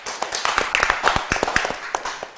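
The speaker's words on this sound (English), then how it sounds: "Clap for Hamza as well" An audience at a quiz show claps for a contestant, a dense run of quick, sharp hand claps close by for a couple of seconds, with a voice briefly heard among them.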